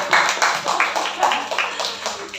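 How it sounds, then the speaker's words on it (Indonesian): An audience claps in a quick, scattered burst in a parenting seminar hall, uneven hand claps blending into brief applause at moderate volume. "Tepuk tangan dulu."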